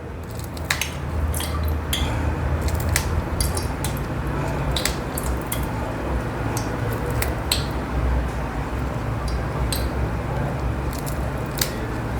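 Long green chillies being snipped in two, a steady run of crisp cutting clicks close by over a low background hum, with no talking.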